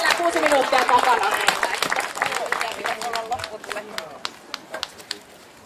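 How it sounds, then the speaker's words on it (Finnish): Crowd applause at a firewood-splitting contest at the Anianpelto market in Asikkala, a burst of clapping that tails off into a few scattered claps, heard under a speaker's voice. "Ja annetaan raikuvat aplodit."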